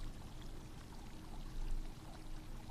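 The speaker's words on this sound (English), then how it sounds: "it is all accompanied by the sound of rushing water" Water rushes and pours steadily into a shopping-mall fountain with coins on its bottom, a continuous close splashing roar with slight surges and no voices.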